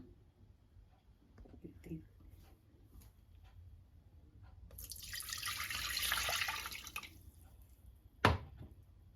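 First and second coconut milk poured into a pot on the stove, a soft, steady liquid splash rising for a couple of seconds after faint clinks, then a sharp knock at the end.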